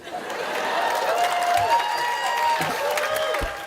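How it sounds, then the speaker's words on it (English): An audience at a college commencement applauds steadily, with some cheering mixed into the sustained clapping. "2012, hold for applause."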